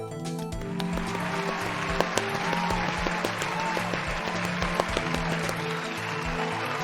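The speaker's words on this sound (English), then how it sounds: "A round of applause for the 19th anniversary of Ace Attorney" Applause for an Ace Attorney anniversary during a game stream, a dense steady clatter of clapping from a group, continuous and fairly loud throughout over a low background hum.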